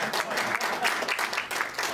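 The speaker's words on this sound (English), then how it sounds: "That deserves second applause." An audience at a film festival screening applauds a short horror comedy with a steady, dense burst of clapping, with a voice faintly underneath.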